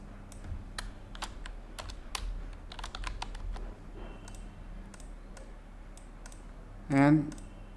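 Computer keys are tapped in scattered bursts of light, close clicks with pauses between, under a quiet room tone, followed by a short louder sound near the end.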